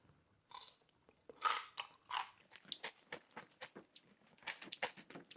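Crisp crunching bites into a homemade vinegar cucumber pickle followed by a string of loud, close chewing crunches in an uneven rhythm.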